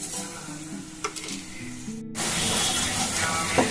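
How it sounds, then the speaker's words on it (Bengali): Spice paste with green chillies and sugar frying in a pan gives a steady sizzle, with a spoon scraping and stirring through it. It drops out briefly for a moment, then returns louder and more hissing, close up and with no voices. "মশলাটাকে খুব ভালো করে এখন একটুখানি 2-3 মিনিট নিয়ে কষিয়ে নিতে হবে।"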